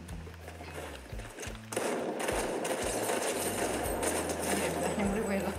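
Rapid automatic gunfire in the Fortnite video game bursts out loud and continuous after a quieter opening with some game noise, sustained dense firing to the end.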